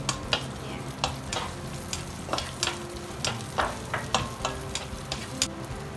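Shallots frying in hot oil in a Thai kitchen, with a soft steady sizzle broken by repeated clinks and scrapes of a spatula stirring the pan, fairly quiet and close, with no talking.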